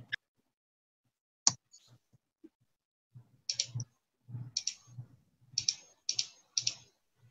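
Sharp mouse clicks while working in Microsoft PowerPoint, a single click early on followed by clusters of quick clicks in the second half, close and fairly quiet, with no talking.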